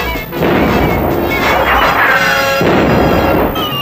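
Cartoon cannon and gunfire, a loud barrage of booming blasts and crashing bursts in quick succession that fills the whole scene.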